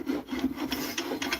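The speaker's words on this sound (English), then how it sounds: "Let's sand." Sanding a resin pen blank spinning on a lathe, a steady close-up rasping rub with quick repeated strokes and a constant hum underneath.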